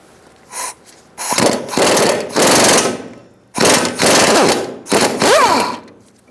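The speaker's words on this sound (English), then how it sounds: "I'm going to use a 19mm socket and disconnect this bottom nut." A power impact wrench on a 19mm socket loosens the bottom nut of a rear shock on a 2010-2013 Kia Soul, hammering in several loud rapid bursts with short pauses between, close up and without talk.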